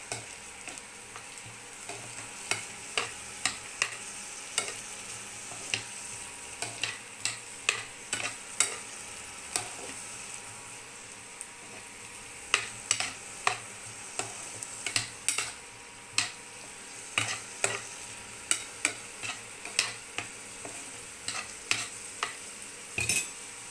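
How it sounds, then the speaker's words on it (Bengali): Mayo-coated broccoli lightly roasting in a pan for about two minutes, with a steady low sizzle broken by frequent sharp clicks and scrapes of stirring, close and moderately quiet, no talk. "এবার জাস্ট আমি হালকাই রোস্ট করবো"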